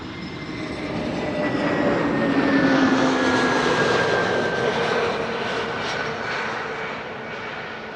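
A KLM Airbus A321neo arriving at Amsterdam Schiphol, inbound from London Heathrow, passes as a loud broadband jet roar with a steady whine, swelling midway and easing off, with no talk over it.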